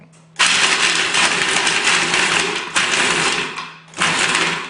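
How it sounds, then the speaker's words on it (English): A loud motorized chopper whirs in several bursts, pausing briefly between pulses as it chops blueberries into chunks. "This is going to be a little loud because what I'm going to do is chop them"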